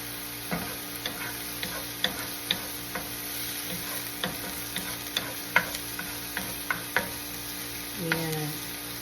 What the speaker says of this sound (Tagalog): Mekos-mekos tayo mga kabalot.